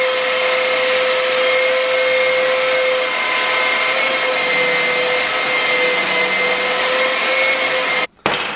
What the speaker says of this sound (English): that's the basic shape off the belt sander